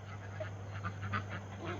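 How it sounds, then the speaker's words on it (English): A gander, a male goose, honks in a short series of nasal calls on a farm, fairly faint over a steady low hum. "Is this gander bothering you, Mumbles?"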